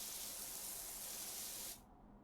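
A pressure washer in the video game PowerWash Simulator sprays with a steady, fairly quiet hiss that cuts off abruptly near the end.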